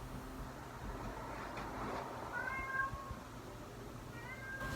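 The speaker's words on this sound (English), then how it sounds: "This lady has a cat and I don't like cats." A cat meows in short repeated calls, rising and falling, close by over a steady low rumble of traffic noise, with no talking.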